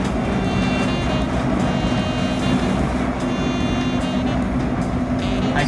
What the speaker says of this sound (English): we just finished mounting the motor and tightening all the belts. So we're gonna kick it on.